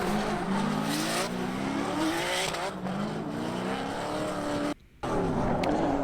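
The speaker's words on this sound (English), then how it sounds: "The lead car is a supercharged LS2, I believe, S13. And the following car is a turbo S54" Two drift cars, a supercharged LS2 S13 leading and a turbo S54 following, scream through a Formula D Pro-Am run. Loud engines rise and fall and tires squeal continuously, with one brief drop-out near the end before the noise resumes.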